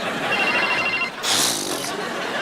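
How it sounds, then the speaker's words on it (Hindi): A telephone rings indoors in a Hindi-language TV comedy scene, a short electronic ring breaking in loud and close over background chatter. "खबरदार चैनल से फोन है"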